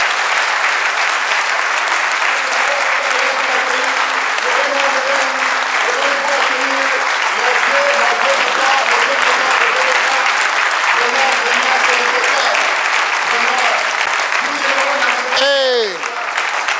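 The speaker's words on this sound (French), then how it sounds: "Donc acclamez encore le maître, le professeur Kopa Dje." A seminar audience claps steadily and densely for a speaker for well over fifteen seconds, loud and sustained, with a voice talking over the applause and a brief whistle-like sweep near the end.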